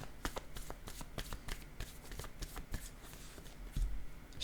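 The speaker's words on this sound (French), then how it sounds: "Je vais déposer une carte sur l'homme" Cards handled and laid down on a table during a card reading: a quick series of soft, crisp papery taps and slaps in an irregular rhythm, close and fairly quiet, with no talking.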